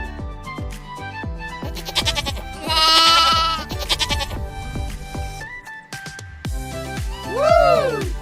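Sheep roaming free in a hotel's animal area bleat repeatedly, loud wavering calls close by over a busy background of other tonal sounds, with a final drawn-out bleat near the end.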